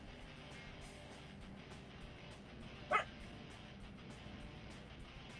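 A pet dog named Otto lets out a single short bark midway through, fairly faint and somewhat distant, against a low, steady background hum.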